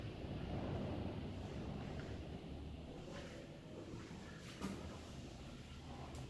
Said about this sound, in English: Very blustery and windy today